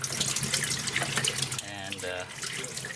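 Water gushes steadily while a rain harvester tank is washed out after a fire, the spray running loud and close with a brief splashing change partway through; no one talks.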